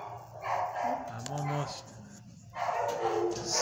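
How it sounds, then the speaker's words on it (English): Dogs in a shelter kennel bark and yip in short bursts close by, with a person talking over and between the barks. "There's two dogs next to him, though."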